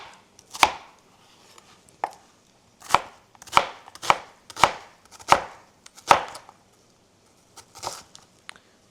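A knife chops ripe onions on a cutting board: about a dozen sharp, close thuds in an uneven rhythm, with short quiet pauses between some strokes.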